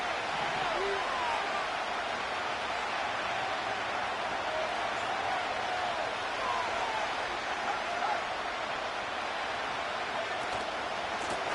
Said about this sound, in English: this crowd urging the defense on